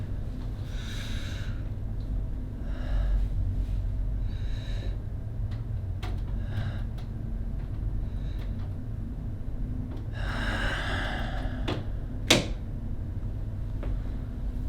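Heavy breathing, close and audible as several slow, breathy inhales and exhales spread across the clip, with a faint sharp click near the end.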